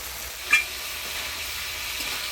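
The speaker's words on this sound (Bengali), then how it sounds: "মশলাটা ভালো করে কষে নিব" Coriander and chili paste with turmeric, salt and a splash of water fries in a pan for a boal fish curry, giving a steady close sizzle with one brief scrape of the spoon near the start.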